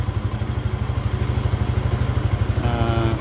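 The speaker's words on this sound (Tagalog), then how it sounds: "So ito naman yung rumble idle." A Honda Sniper150 v2 motorcycle with an aftermarket Datatec ECU sits at a fast rumble idle, its engine thumping in a loud, close, rapid and steady rhythm.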